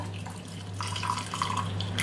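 Water poured into a cup holding salt, a steady close trickle and splash running for about two seconds with a faint constant hum beneath it.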